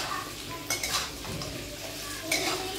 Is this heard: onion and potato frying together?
yes